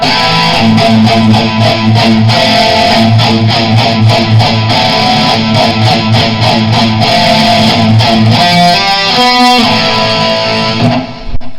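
A heavily distorted electric guitar plays a loud, driving riff, with rapid repeated notes and a quick run near the end before cutting off.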